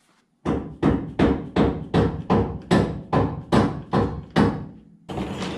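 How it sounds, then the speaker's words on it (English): Ten heavy metallic hammer blows strike in a steady rhythm, knocking out a vehicle leaf spring shackle, close and loud, each ringing briefly before the next. "Let me get the hammer. We'll knock the other one out."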